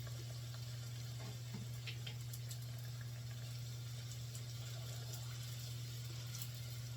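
Sopaipilla dough frying in hot canola oil, a steady bubbling sizzle running evenly throughout, close and continuous, with a low hum beneath and no talk.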